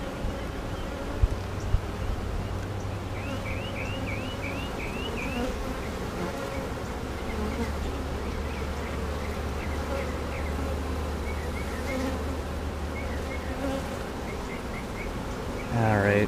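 A dense swarm of honey bees hums continuously up close around an open hive, a steady buzzing drone with occasional louder insects passing near, and faint birdsong in the background.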